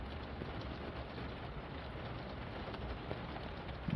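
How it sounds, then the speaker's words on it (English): Steady rain patters outdoors before dawn during Hurricane Milton in Temple Terrace, Florida, a continuous even hiss with no voices and a slight swell at the very end. "Don't know if you can hear that pitter patter or not, but that's rain."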